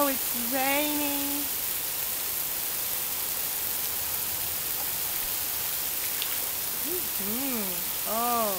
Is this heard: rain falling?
yes